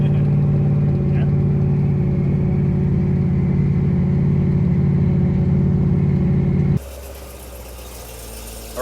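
A turbocharged 1500 HP 2010 Camaro SS drives along with a loud, steady low engine drone that holds for most of the stretch, then drops abruptly to a quieter, lighter hum near the end.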